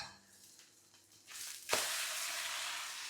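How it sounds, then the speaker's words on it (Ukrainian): A potato pancake (deruny) browns in a pan, a quiet hiss that swells into a sudden brighter sizzle partway through as the pancake meets the hot oil, then holds steady to the end. "І обсмажуємо до румяної скоринки ще з іншої сторони"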